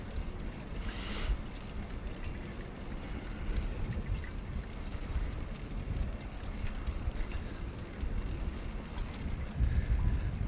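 Police horses' hooves clip-clopping on a San Francisco street, heard from a moving bicycle, with faint irregular hoof clops mixed into steady traffic and wind rumble.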